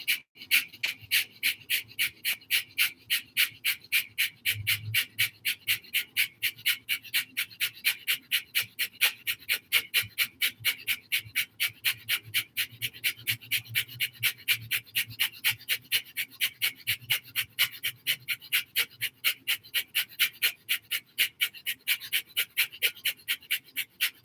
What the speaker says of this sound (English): and start the breath of fire.